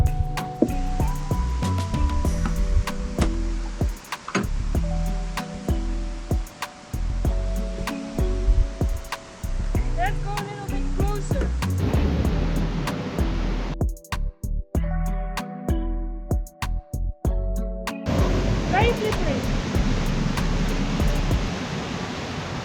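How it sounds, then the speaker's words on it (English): Ganesh Falls near Yuksom in Sikkim rushes with a steady, loud broadband roar of falling water heard up close, while a person briefly speaks and tonal sounds ring out over the torrent. "We made it to Ganesh Waterfalls."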